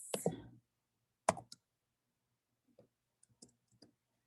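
A few sharp keystrokes on a computer keyboard, heard as isolated clicks and a brief clatter with quiet gaps between them, no speech.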